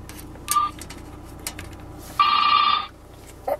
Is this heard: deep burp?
no